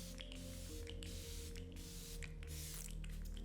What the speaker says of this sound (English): the product that I'm spraying now is just a foot sanitizer to clean the foot free from any dust